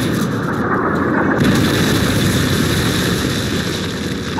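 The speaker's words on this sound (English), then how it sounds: "Friendly Predator missile inbound." A Predator missile strike in a video game roars in loud and close, a dense, continuous rumbling blast of engine and explosion noise with no talking.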